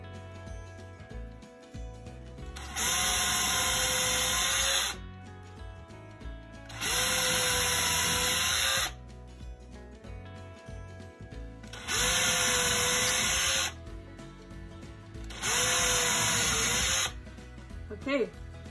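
A power drill bores holes in wood for hangers in four loud bursts of about two seconds each, with rising and falling whine, and quieter gaps between them with faint handling noises.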